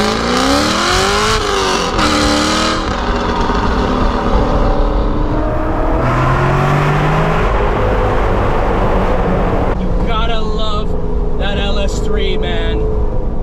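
C6 Corvette Grand Sport with an LS3 engine pulling hard, loud rising engine roar and gear changes inside the cabin, with excited voices talking over it throughout.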